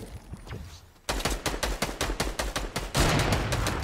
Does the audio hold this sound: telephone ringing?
no